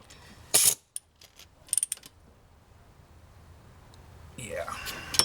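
Ratchet tightening an alternator bolt on a 2001 Chevy 2500HD pickup: a few short sharp clicking bursts near the start, then quieter scattered clicks and a rising mechanical rustle toward the end.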